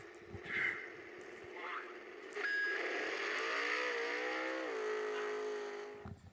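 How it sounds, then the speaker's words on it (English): A small toy car motor whines and climbs in pitch, revving up and then easing back down, with a few brief voices and noises at the start. "the revs kind of jumped up a little bit and then came back down"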